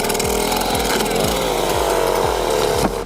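A newly rebuilt 090 AV chainsaw with a 4-foot bar cuts through a massive oak root ball, a loud, close, low-revving buzz that pulses in a steady rhythm of about two strokes per second, heard alone without talk.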